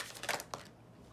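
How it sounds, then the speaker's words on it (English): Tarot cards shuffled by hand during a pick-a-card reading, a quick, soft riffle of a few papery flutters lasting about a second, quiet and close with no talking. "Last shuffle, then I choose from the middle."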